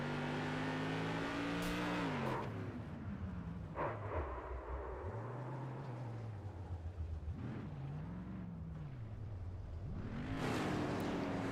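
Onboard a race car circling an oval track in a charity race, the engine drones and rises and falls with gear changes and throttle lifts, a strong rasping tone that dips between revs, heard alone without commentary.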